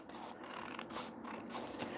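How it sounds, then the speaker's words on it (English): Scissors trimming around a piece of paper, a quiet, steady run of soft snipping and rustling cuts close by, with no voices. "I'm just going to trim it round with my scissors."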